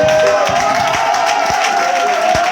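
A church congregation acclaiming and cheering, a loud dense roar of many voices with sustained shouts and occasional claps, steady and close throughout.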